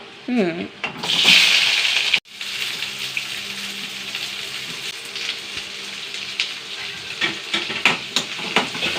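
Onions sauté in a pan on a stovetop with a close, continuous sizzle and hiss, broken by a brief clatter and scraping stirs, with occasional soft voices underneath.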